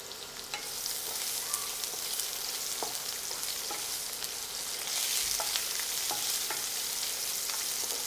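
Sliced green chillies and long strips of ginger slowly cooking in a pan over a low flame for a sesame chutney, giving a steady gentle sizzle with occasional light stirring clicks throughout.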